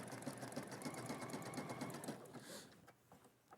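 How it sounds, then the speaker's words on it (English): A sewing machine running a zigzag stitch at length 2 and width 5 over stretched elastic, its needle thumping in a steady rapid rhythm close by for about two seconds before slowing and stopping. "I'm going to go to my zigzag stitch on my machine, use their recommendation of a stitch length of 2 and a width of 5"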